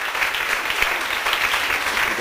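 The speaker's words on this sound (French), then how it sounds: "Applaudissements." Steady applause from an audience at a ceremony fills the space, dense and sustained at a moderate level with no pauses.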